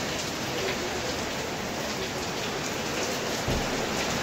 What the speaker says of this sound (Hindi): ये तेज़ बारिश हो रही है